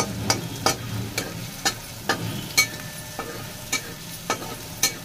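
Ground green chili is stirred into hot oil in a pan for fasting-style potato bhaji, and a soft steady sizzle runs under about a dozen sharp, regular spatula scrapes and taps, each clearly separated.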